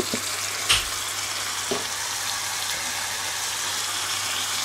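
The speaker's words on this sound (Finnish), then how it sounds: "seuraavaksi laitan tomaattimurskaa tänne purkin" Crushed tomatoes from a can poured into a hot, sizzling pan of bacon and minced meat sauce; a steady frying hiss runs throughout with a couple of brief splashy thuds near the start.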